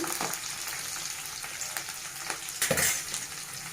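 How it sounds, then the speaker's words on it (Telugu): Onions sizzle and fry in hot oil for drumstick sambar, a dense continuous crackle with brief stirring scrapes and a louder burst near the end, close and alone. "మనం ఆనియన్స్ వేసిన తర్వాత కొంచెం ఫ్రై అవ్వనివ్వాలి"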